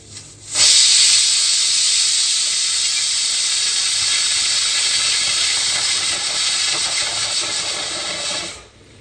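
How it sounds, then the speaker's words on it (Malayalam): A pressure cooker full of rice lets off a single long, loud steam whistle, a steady forceful hiss lasting about eight seconds before cutting off sharply, with no voices. "അപ്പോൾ ഒറ്റ വിസിലേ വന്നിട്ടുള്ളൂ"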